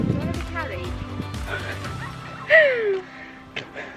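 Small chihuahuas yap and whimper close by outdoors on a walk at Cramond. A few short barks and a rising whine cut through people's talk and a brief laugh.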